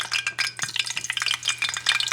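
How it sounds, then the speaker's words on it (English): Potato pieces fry in hot vegetable oil in a pan for a Puerto Rican carne frita meal, giving a close, steady crackle and sizzle with bright popping spatters throughout. "So in this one, I'm going to put the potatoes."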